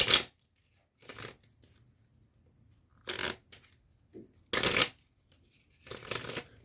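Several quick bursts of cards being riffle-shuffled, separated by short pauses, close and crisp with no talking.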